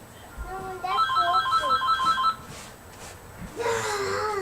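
A telephone rings in a home, sounding a warbling electronic tone in a repeated burst near the start, then briefly again after a pause, close and fairly loud, with no one speaking over it.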